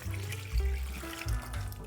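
Tap water runs steadily into a pot while water is added to Guatemalan pepián, a continuous close splashing with a couple of brief surges.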